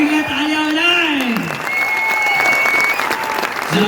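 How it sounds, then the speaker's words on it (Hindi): Clapping from a talk show audience at a Punjab community event rises under a voice with sustained pitched tones, probably music or singing, the applause steady and moderately loud through the short stretch. "एक बार पंजाब कम्युनिटी के लिए तालियां हो जाए।"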